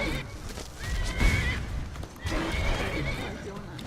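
A horse in the video game Skyrim whinnies twice with shrill, wavering neighs over clip-clopping hooves, while people talk and laugh faintly in the background.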